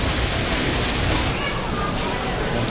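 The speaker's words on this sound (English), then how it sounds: "check it out. It's a water feature." A water feature on the High Line in New York City gives off a loud, steady rush of splashing water, continuous and close, filling the whole moment without pause.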